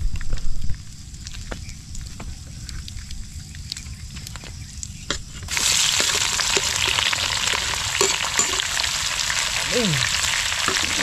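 Onions sautéing in a pan on a farm, a quiet clatter giving way to a loud, steady broadband sizzle that fills the second half, with brief utensil clinks and a short spoken word.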